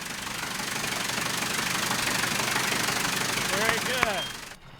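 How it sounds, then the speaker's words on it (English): A Wright Flyer replica's small piston engine runs steadily with a dense, rattling drone, loud and close, with a few brief chirping squeaks near the end before it cuts off. "how a Wright engine really sounds"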